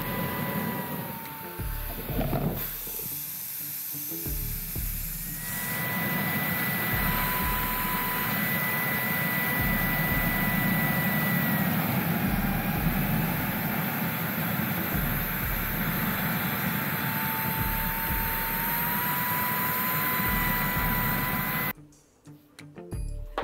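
A Kacnon electric air duster on a high setting blows air into a fire, producing a steady whirring, high-pitched motor roar that runs continuously and cuts off abruptly near the end.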